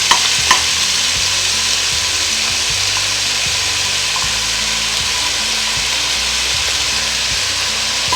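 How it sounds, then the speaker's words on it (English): Onions sautéing in a hot pan for a bean dish, a steady, close sizzling hiss with faint scraping and knocking underneath, with no talk. "you want to start with your pan nice and hot. And what you're going to first start with is your onions."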